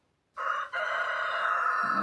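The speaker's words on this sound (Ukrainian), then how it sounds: "без півня не обійдеться ніде" A rooster crows loud and close in one long call with a brief break near its start, beginning after a moment of silence, heard in a garden setting.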